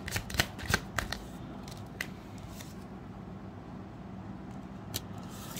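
Tarot cards being shuffled and handled at close range, a run of crisp riffling flicks early on, then quieter handling with a few isolated snaps over a low steady background hum.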